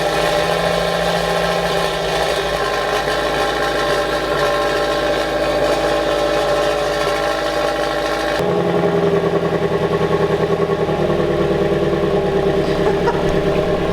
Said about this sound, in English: First start, in the center exit Karma exhaust.